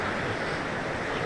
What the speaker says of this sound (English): Just the sound of the river next to me all night.